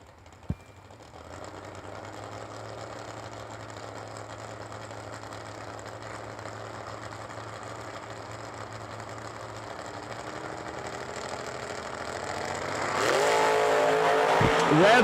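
Drag racing cars, including a big-tire Challenger, sit staged at the starting line with a steady engine drone that swells into a louder, revving burst near the end.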